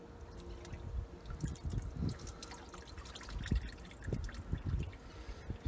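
Water poured through a hose into the exhaust manifold of an OMC 140hp 2.5L inboard boat engine being winterized, a close, uneven splashing and dripping trickle with irregular gurgles.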